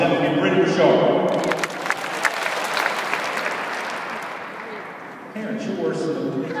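A crowd of parents and kids at a basketball camp breaks into loud, dense applause that swells, then thins and fades before a burst of talk returns at the end; a voice speaks over the opening.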